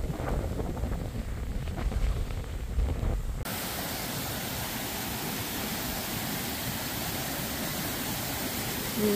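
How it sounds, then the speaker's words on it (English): Strong wind on a cold mountain section of the Appalachian Trail buffets the microphone in a continuous low roar, loud and steady, getting noticeably harsher after the first few seconds. "Ooh, it's windy."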